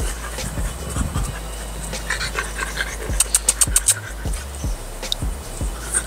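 Two French Bulldogs pant steadily and rhythmically close by, with quick breathy puffs throughout and a brief cluster of sharper, louder breaths midway.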